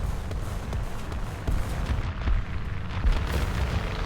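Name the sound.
15 cm artillery gun firing in a video game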